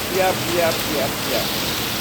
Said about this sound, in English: And it's a rainy day in Kingston.